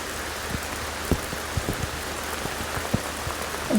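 Steady rain falls during a rainstorm, a dense even hiss with scattered close drops tapping and splashing on a surface throughout.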